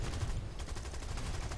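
Cannon fire from a de Havilland Mosquito in War Thunder, a rapid continuous burst of gunfire with evenly spaced shots rattling close and loud for the whole moment.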